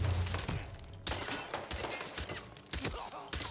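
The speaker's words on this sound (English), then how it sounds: "Ooh, flash grenade." Flash grenade and gunfire ring out in Hitman VR, a rapid cluster of close, punchy shots and bursts across a few seconds, fairly loud against busy game background sound.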